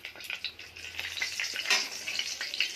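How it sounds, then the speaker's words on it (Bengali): Bay leaves spluttering in hot oil left over from frying potatoes, a soft steady crackle with small sharp pops throughout, fairly quiet and close, no voices. "ভাজা তেলের মধ্যেই তেজপাতা ফোড়ন দিলাম"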